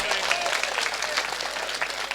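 Enthusiastic audience applause at a Hindi-Urdu poetry recitation gathering, a dense, continuous clatter of many hands that stays strong throughout, with faint crowd voices underneath.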